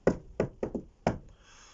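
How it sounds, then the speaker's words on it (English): Knuckles rap on a door in a crisp burst of five knocks, the middle ones quick, close and loud, then a faint lingering tail with no voices. "knocked on the door."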